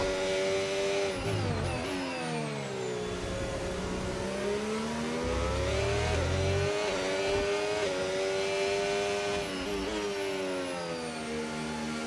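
Racing car engine in a racing video game, set in Qatar and driving a Red Bull: a loud, continuous high-pitched engine whine that rises and falls through gear changes and revs, steady throughout with no talking.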